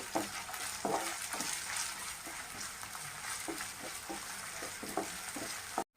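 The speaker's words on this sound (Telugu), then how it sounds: "అల్లం వెల్లుల్లి పేస్ట్లో నుంచి మంచి అరోమా వచ్చేంత వరకు వేయించుకోవాలండి." Ginger garlic paste sizzles in oil in a pan with a steady, bright hiss, and occasional soft clinks and scrapes of stirring come through; no one speaks.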